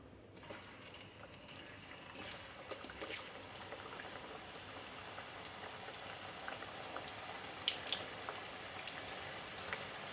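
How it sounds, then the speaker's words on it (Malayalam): Raw banana slices fry in hot oil in batches for Kerala Onam upperi chips, with a soft, steady crackling sizzle, faint and continuous with scattered pops. "എണ്ണ നന്നായിട്ട് തന്നെ ചൂടായി വന്നിട്ടുണ്ട് ഇനി നമുക്ക് കായിട്ട് ഇട്ട് കൊടുക്കാം"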